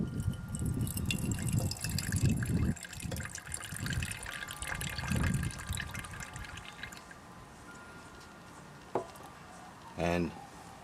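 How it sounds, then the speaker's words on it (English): Acid poured off gold mud makes a faint sloshing, dripping pour with light splashes that fade to a few drips, with brief clinks near the end. "now I just pour off the acid"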